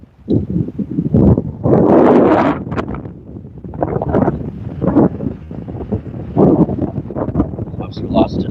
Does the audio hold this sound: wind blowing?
yes